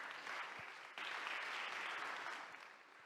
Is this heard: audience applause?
yes